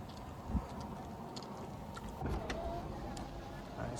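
The sunroof of a 2024 Hyundai Kona Electric Limited opens with a steady electric motor whir inside the cabin, with a faint click and a shift in tone partway through, close and quiet.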